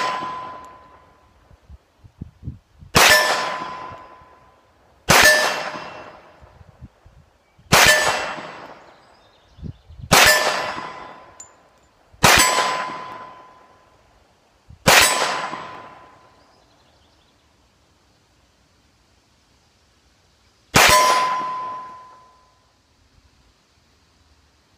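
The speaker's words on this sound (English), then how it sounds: "Today, we'll be shooting the Sig Sauer P220 Hunter in 10mm." A Sig Sauer P220 Hunter 10mm pistol fires at steel targets on an outdoor range. Seven sharp shots each end in a ringing metallic clang: six come at an even pace, then a pause before the last.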